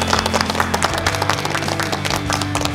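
A studio audience on the Korean quiz show Janghak Quiz breaks into applause for a contestant, a dense, sustained patter of clapping mixed with background music tones.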